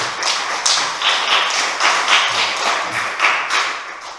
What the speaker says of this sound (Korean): 우리 박수는 하나님께 영광의 박수를 드립니다.